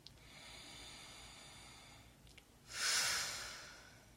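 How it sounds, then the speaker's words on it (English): A single deep breath, a long airy inhale swelling into a louder, rushing exhale, close and quiet against a calm, still room. "take a deep breath"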